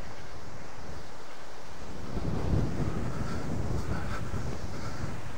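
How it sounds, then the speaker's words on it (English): Wind gusts buffet the microphone at an outdoor camping ground with electric pitches at Old Brick Kilns in Norfolk, a steady rushing roar that swells louder after the first couple of seconds. "Hope you can hear me for the wind."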